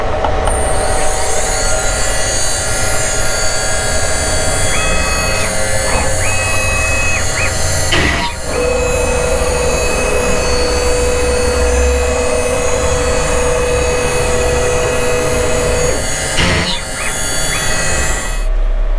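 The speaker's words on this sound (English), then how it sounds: "So now with my fretboard blank loaded in the machine, go ahead and run this cut." A CNC machine cuts a guitar fretboard blank, giving a loud, steady broadband whir with a high spindle whine that runs throughout, with brief pitch shifts as the tool moves.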